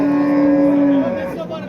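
A cow at a livestock market lets out a single loud, drawn-out moo up close that tails off after about a second, leaving faint background murmur.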